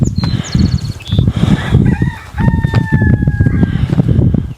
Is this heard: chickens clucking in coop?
yes